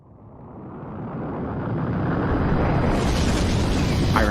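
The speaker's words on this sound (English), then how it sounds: "our entire universe was born in the Big Bang." A Big Bang explosion sound effect: a loud, deep roar that swells steadily from quiet to a full, rumbling blast over about four seconds, dense and sustained with no speech.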